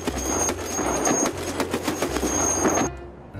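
A train runs in Escape From Tarkov, a steady rolling rumble with rhythmic clickety-clack beats over a low hum, loud and continuous before cutting off near the end.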